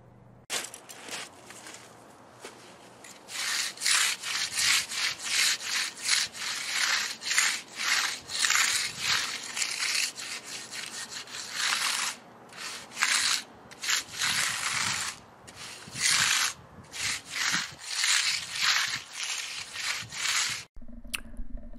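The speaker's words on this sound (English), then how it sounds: "now for that tool I'm using, that's called a mag float, and we always mag float the edges first" A magnesium float works along the edges of freshly poured concrete in repeated wet, rasping strokes, a close and steady rhythmic swishing that pauses briefly a few times.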